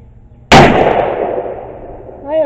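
A single loud gunshot from a Ruger Old Army revolver fitted with a .45 Colt conversion cylinder cracks sharply and rings out with a long fading echo, followed by a voice starting to speak.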